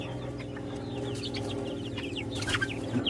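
Farm-mix chickens, including a barred rooster, clucking and chattering steadily close by, several birds overlapping in a continuous murmur with a few sharper calls near the end.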